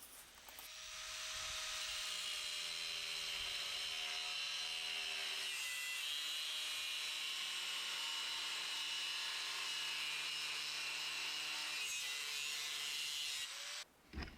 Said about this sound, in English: I round off the corners and grind down any burrs that are left.